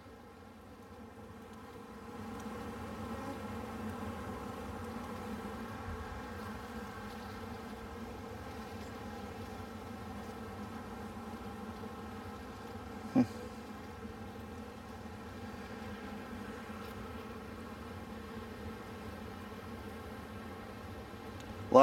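Honeybees hum steadily at an open hive in spring, a continuous low, droning buzz that stays close and even throughout, broken by a couple of brief clicks and a sharp knock at the very end.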